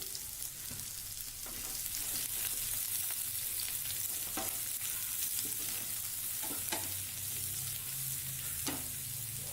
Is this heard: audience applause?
no